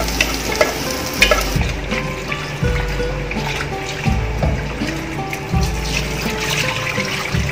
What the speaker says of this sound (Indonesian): Ini bawang putih ditumis bersama kulitnya.